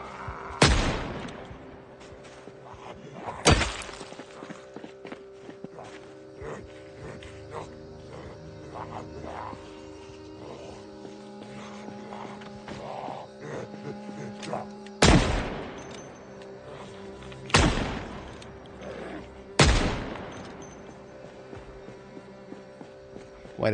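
Gunshots in the zombie survival game Project Zomboid, sharp loud single reports spaced several seconds apart over quiet game ambience.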